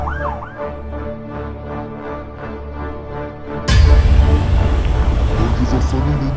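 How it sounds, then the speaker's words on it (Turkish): An ambulance siren wails nearby, its tone loud and continuous, over traffic rumble with voices in the background; it grows sharply louder and closer partway through. "Toplanmış bir tane ambulans geldi şu an."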